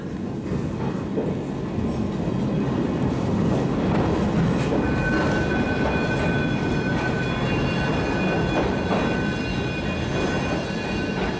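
A funicular railway car riding downhill toward Karlovy Vary rumbles steadily and loudly from inside, with a continuous roar, rattling, and thin squealing tones from the wheels and cable.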